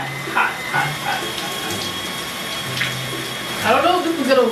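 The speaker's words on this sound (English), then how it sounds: "oh my god, I'm getting water everywhere" Water runs steadily from a tap while hair is washed with gel, giving a constant hiss and splash under a voice, which breaks in several times and grows louder near the end.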